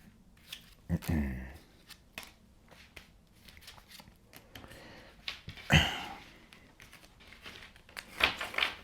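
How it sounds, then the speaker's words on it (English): Tarot cards are shuffled and pulled in a few brief bursts, quiet papery riffles and snaps between stretches of near silence, with a soft voice briefly in the background. "Let's pull your cards here, Aries."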